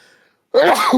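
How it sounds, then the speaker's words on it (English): One sudden, loud, close sneeze bursts out after a moment of near silence. "I just sneezed right there."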